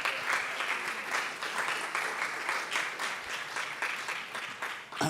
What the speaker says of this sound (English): please welcome Alexandra with a big round of applause